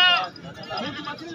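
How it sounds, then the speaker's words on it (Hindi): A goat with two kids bleats at a livestock market, a wavering nasal cry that rises and fades. Voices talk close by. "माशाल्लाह 2 बच्चों की बकरी है"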